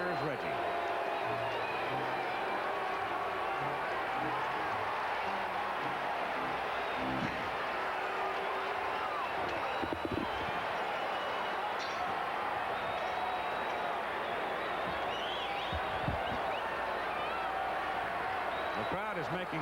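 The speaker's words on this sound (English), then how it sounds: "The crowd is making the kind of noise here late in the game" Late-game baseball stadium crowd at the 1978 ALCS Game 2, Yankees versus Royals, rumbles as a broad sustained murmur with scattered claps and cheers under a commentator's voice.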